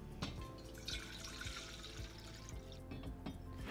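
Water runs and splashes steadily from a tap into a pot, to be boiled for a chakli dough recipe, with a few clinks in a home kitchen and no talk.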